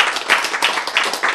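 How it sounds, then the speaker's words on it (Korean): An audience claps during a Korean Bible lecture, a quick run of sharp, fairly close hand slaps with a few louder accents. "박수."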